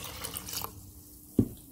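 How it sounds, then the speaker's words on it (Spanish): Water is added to a corn masa (maseca) mixture in a kitchen, heard as a brief, faint trickle followed by one distinct splash, with no talking. "ahora le voy a agregar un poco más de agua"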